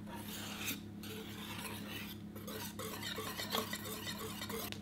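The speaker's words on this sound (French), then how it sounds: "vous pouvez prendre un fouet ou une fourchette et on va mélanger tout doucement" A whisk gently stirs cream mixed with malted yeast in a bowl, producing a soft, continuous scraping and swishing that stays quiet and close, with no talking.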